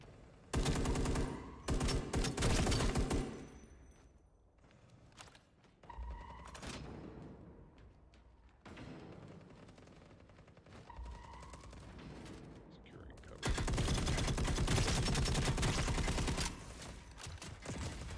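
Rapid automatic gunfire from a hard-recoiling gun in the shooter game EVE Vanguard, several loud sustained bursts separated by quieter gaps with mechanical clicks and thuds.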